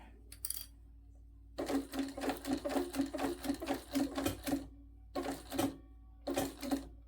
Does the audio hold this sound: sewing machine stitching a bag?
yes